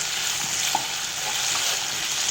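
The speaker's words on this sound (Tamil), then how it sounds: "இதில் வந்து கொஞ்சம் உப்பு சேர்த்துட்டு நான் இப்போ ஃப்ரை பண்ணிகிட்ருக்கிறேன்" Potatoes fry with salt in a kadai, giving a dense, even hiss of oil sizzle throughout, close and steady with a faint knock or two and no speech.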